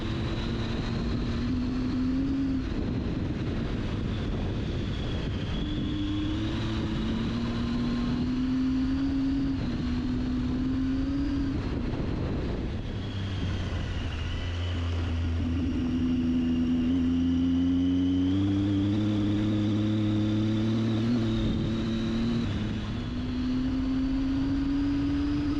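Triumph Tiger 800XC with an 800cc triple engine ridden fast on an open dirt road, engine note climbing through gears in steady rising sweeps under a constant wind roar.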